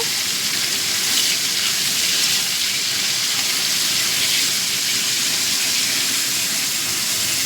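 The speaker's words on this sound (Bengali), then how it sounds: "উচ্ছেটা একটু ভাজা ভাজা করে নেব।" Bitter gourd frying in hot oil gives a dense, even sizzling hiss that holds steady and fairly loud throughout, with no talk.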